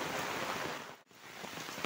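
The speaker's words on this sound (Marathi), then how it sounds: "एवढ्यात धोधो पाऊस आलेला आहे" Heavy monsoon rain hammers down on a paddy field during rice planting in Konkan, a loud, dense, unbroken hiss of downpour close by with no voices.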